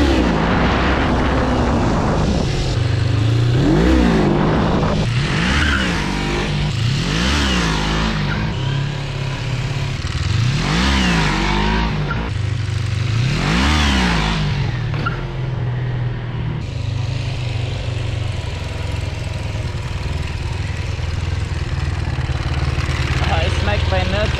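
A Ninja 250 motorcycle doing stunts, its engine revving up and down in repeated rising and falling surges, loud and close, with a steadier drone toward the end.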